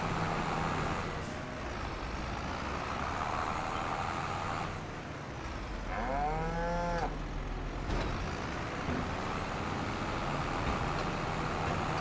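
Cattle moo from inside a trailer in the farming game Farming Simulator 25, one long drawn-out moo rising over a steady background rumble of vehicle noise, with a few faint clanks.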